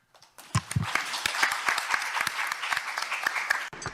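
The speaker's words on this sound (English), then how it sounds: "Please give him a big round of applause." Conference audience applauding, a dense burst of clapping that rises quickly and holds steady at close range for several seconds before stopping abruptly.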